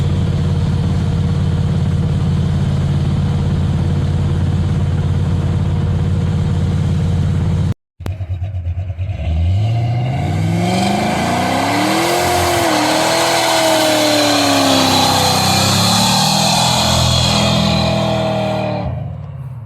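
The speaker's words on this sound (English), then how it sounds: "Now it gets a little more RPM and floats the valves." A 1972 Ford Mustang Mach 1 V8 with tired valve springs idles loudly, cuts out briefly, then revs hard to high rpm where the valves float, its pitch sweeping up and down in a close, sustained roar.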